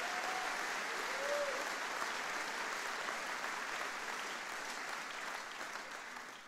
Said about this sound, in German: wir geben mal den RTC-Studenten einen mächtigen Applaus.